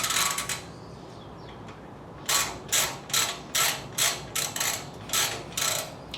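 Socket ratchet turning on a Suzuki GS550 motorcycle being built into a cafe racer, giving a steady series of about eight loud clicking strokes in even rhythm after a quieter, brief start, close up and without talk.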